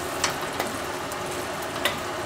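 Mushroom risotto with broth just coming to a boil, a steady soft sizzle and bubbling hiss with a few faint clicks, quiet and continuous with no voices.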